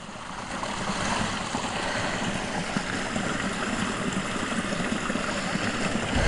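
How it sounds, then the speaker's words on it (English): A bubbling brooklet running down from the Mendip hills toward Cheddar gives a steady, close, broadband rush of flowing water, unbroken by talk. "Over a bubbling brooklet. Coming down from the Mendips."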